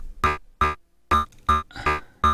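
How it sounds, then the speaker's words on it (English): A Joranalogue Organ Accumulator synth module routed through a Mix 3 mixer, unmodulated, plays six short organ-like tones in a steady pulsing rhythm, each a bright harmonic-rich burst with clear gaps between. "An organ accumulator is connected to Mix 3, another great module by JORANALOGUE, and that is how it sounds."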